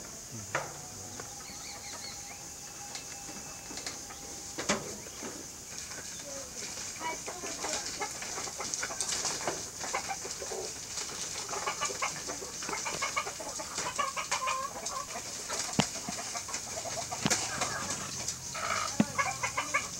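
Chickens at a poultry farm cluck and squawk in a busy, irregular chorus at moderate distance, with scattered sharp calls and some background clatter throughout.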